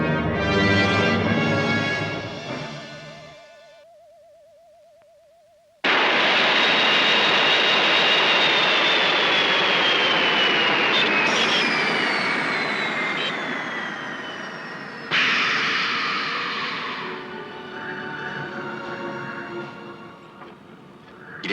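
Cartoon spaceship effect: a warbling tone gives way to a loud roaring jet-like whoosh that slowly falls in pitch as the ship is pulled down and lands, followed by a second roaring surge and settling engine noise.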